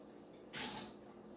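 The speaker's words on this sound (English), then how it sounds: "Pour this extra water out." Excess water is poured off freshly spun vegetables in a kitchen, a short close splash lasting under half a second amid quiet.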